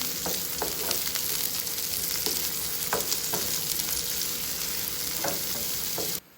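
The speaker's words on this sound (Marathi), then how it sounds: "दोन हिरव्या मिरच्या आहेत आणि छान असा गोल्डन कलर करून घ्यायचा कांद्याचा" Chopped onions with two green chillies fry in hot oil until golden for a simple Marathi moong bhaji, a dense steady sizzle with occasional stirring clicks, close and loud, cutting off abruptly at the very end.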